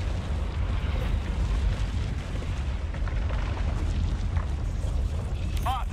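Enemy artillery shells exploding around the player in the video game Helldivers 2, a dense, continuous rumbling roar of blasts and heavy low booms with no gaps, loud and close.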